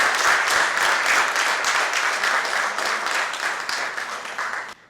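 An audience gives a warm round of applause for a guest at a Marathi talk show event, with dense steady clapping that gradually thins and then stops abruptly.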